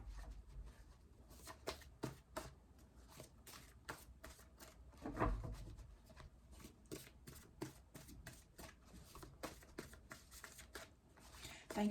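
Tarot cards are shuffled by hand for a reading, producing a long run of quick, crisp riffling and flicking bursts at close range with a few heavier taps, no voices.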